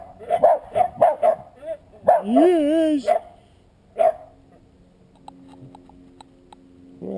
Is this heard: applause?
no